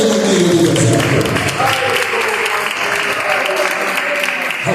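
A church congregation applauds in sustained, dense clapping that fills the room at strong volume, steady throughout, with a voice speaking over it at the start.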